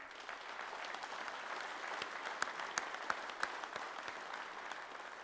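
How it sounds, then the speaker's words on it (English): Audience applause at a UA Industry Day 2019 gathering, a steady dense clapping throughout with a few sharper individual claps standing out, moderately distant and fairly soft, without talk. "I think they need a round of applause as well here."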